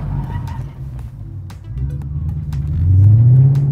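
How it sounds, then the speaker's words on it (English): A car idles and rumbles, then revs up as it begins a handbrake drift, the engine note rising loud and close toward the end with faint tyre noise. "Whenever I initiate a drift or I'm starting out using your handbrake, press the clutch, then e-brake."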